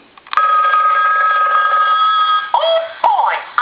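A Mickey Mouse animated novelty telephone in demo mode rings with a steady electronic trill lasting about two seconds, followed by short chirpy tones; the sound is close and loud, with no talking.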